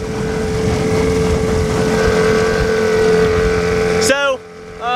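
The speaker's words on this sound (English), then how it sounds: "My first one ever with a motor." A small motorboat's outboard motor drones steadily on the water with a sustained whine and wind buffeting the microphone, then cuts off sharply near the end, followed by a brief burst of talk.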